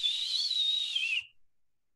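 A person whistles a single sustained, wavering high note, imitating a whistling noise that is not a military whistle; it holds steady for about a second, then cuts off into silence.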